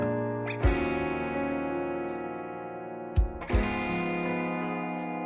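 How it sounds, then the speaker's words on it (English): A sustained, shimmering electronic drone with layered distorted tones serves as a space-distortion effect in a story-driven video game, punctuated by a few sharp swelling whooshes and bursts. "This space distortion appeared because we broke its rules and destroyed this artificial time loop."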